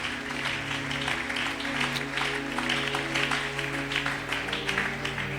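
A church congregation applauds steadily, a dense wash of many hands clapping at an even level without pause, filling the hall from start to finish.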